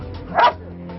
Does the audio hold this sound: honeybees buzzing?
no